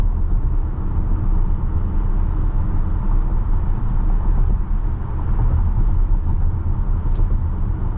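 Inside a Tesla Model Y on the move, a loud, constant low road rumble and tire roar fills the cabin with steady wind hiss, unbroken and without talk.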